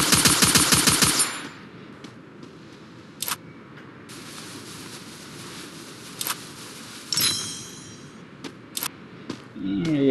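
Machine gun fire in the mobile shooter Free Fire comes as a loud opening burst, then scattered short bursts and single shots amid quieter game ambience, with a voice speaking briefly.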